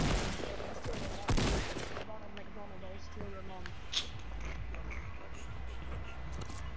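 Shotgun fire in Fortnite, a loud burst of blasts near the start followed by a couple of sharper single shots amid game noise, with a voice talking over it.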